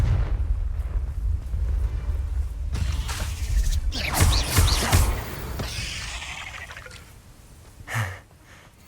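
Confringo blasting-spell explosions from a Harry Potter video game: a dense run of booming blasts and crackling bursts that peaks midway, with a final heavy thump near the end over a low rumbling backdrop.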